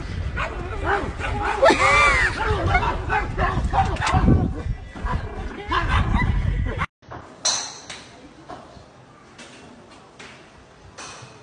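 A dog barks loudly several times at close range amid excited voices, then after a sudden break a few quieter sounds follow under talk.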